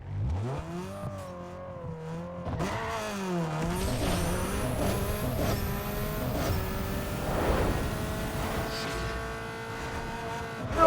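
A Nissan Sentra 2.5L four-cylinder on a drag run in Need For Speed Underground 2, the engine revving hard and climbing through repeated gear shifts, loud and close throughout.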